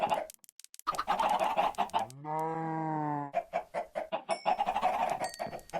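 Chickens in the video game Minecraft clucking in quick repeated bursts, with one long drawn-out squawk in the middle, fairly quiet and alone.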